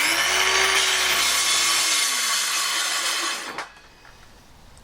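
A power tool cuts a thin strip off an old piece of pine wood, a loud steady whining saw cut of a few seconds that stops abruptly, leaving quiet room noise.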